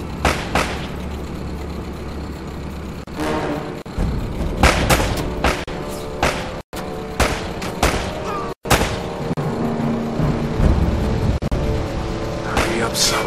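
Gunfire in the video game Uncharted: Drake's Fortune comes as repeated bursts and single heavy shots over a rumbling firefight, with loud booms and short gaps between volleys.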